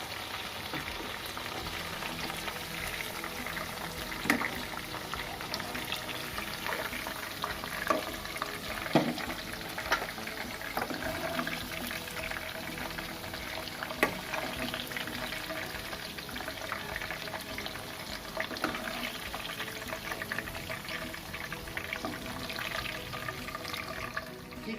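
Chicken popcorn deep-fries in hot oil, a steady close bubbling sizzle lasting throughout with occasional light clicks of a utensil, no talking.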